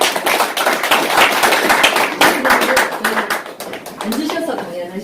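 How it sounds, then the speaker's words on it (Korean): Audience applause welcoming an invited elderly Korean War survivor to a history lecture, a dense wave of many hands clapping close by that carries on steadily for several seconds. "다시 한번 환영의 박수 부탁드립니다"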